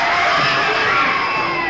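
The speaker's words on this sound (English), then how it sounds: "The screams you are hearing are the actual audience reaction to a sneak preview of Visiting Hours" A packed horror movie audience at a sneak preview screams in one loud, sustained wall of shrieks and yells, dense and continuous throughout.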